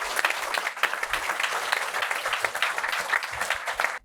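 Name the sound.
applause for a book release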